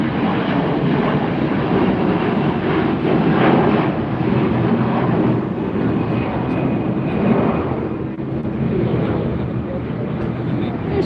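Jet airliners from Aer Lingus and American operate at LAX airport at night, a loud, steady broadband engine roar holding through the whole stretch with a faint whine on top, close and continuous.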